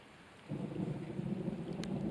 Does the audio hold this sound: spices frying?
no